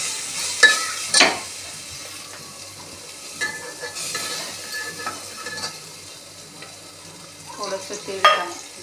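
Chili peppers roasting in a pan with cumin and turmeric, a soft steady sizzle punctuated by sharp clinks and scraping stirs of a utensil against the pan, some brief faint vocal sounds near the end.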